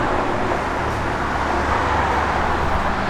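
A 1970 Plymouth Barracuda driving on the road, a steady, broad engine and road rumble with tire and wind noise, continuous and fairly loud without variation.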